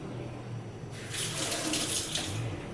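A Japanese serrated bread knife is rinsed under a running tap: water starts suddenly partway through and then splashes steadily, close by, over low room noise.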